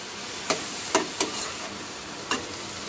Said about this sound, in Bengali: সব কিছু দিয়ে এখন নাড়াচাড়া করতে থাকবো, ঢেকে নাড়াচাড়া করব